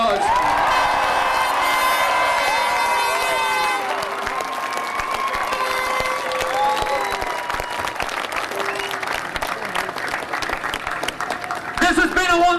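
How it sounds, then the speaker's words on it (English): A large crowd at a county final celebration claps and cheers loudly and steadily throughout, with whoops and shouts rising over the applause and a voice on a PA carrying beneath the noise. "big round of applause"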